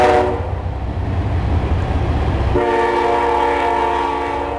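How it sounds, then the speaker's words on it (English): Backyard view of a train rumbling past loud and near, its horn blaring in a sustained, steady blast over the heavy roar of the passing cars. "here comes our train"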